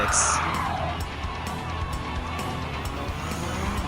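A Suzuki V6 Escudo Pikes Peak Special '98 race car in Gran Turismo 7 drones with a continuous engine roar, opening with a brief high tire squeal before the steady engine note carries on.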